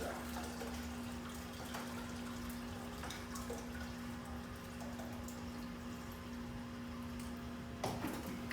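Steady running water drains from a Bunn Ultra-2 coffee brewer with a constant hum from machinery underneath, a faint continuous trickle and a few small knocks.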